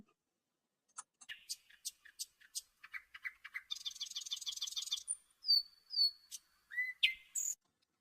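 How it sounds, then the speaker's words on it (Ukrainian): A nightingale sings nearby in a crisp, quiet setting, with clicks and short chirps building into a rapid trill followed by clear whistled notes, alone without talk. "Тут це так солодко співає? Так, то соловей."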